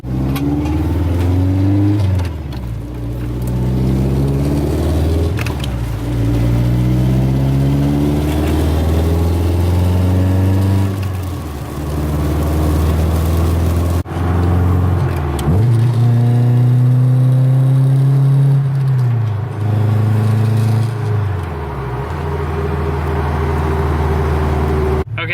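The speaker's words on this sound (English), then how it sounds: "as you can see, it's idling way better" A repaired car engine idles steadily and close by for the whole stretch, its low hum swelling and dipping in slow waves as the revs drift, recorded outdoors in the rain in Connecticut.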